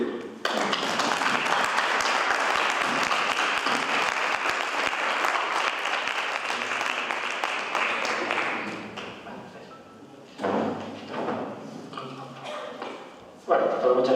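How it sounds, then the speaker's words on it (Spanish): A lecture audience gives a loud, dense round of welcoming applause that fills the room, fading after several seconds before a few scattered bursts of clapping return near the end. "lo que pido es que le deis un aplauso de bienvenida para que ya empiece contento"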